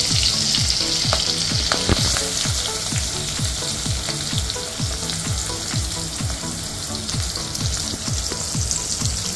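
Green chili and onion frying in hot oil for a dal tadka, a loud, dense crackling sizzle with a steady run of rhythmic scraping stirs, close and continuous with no voices.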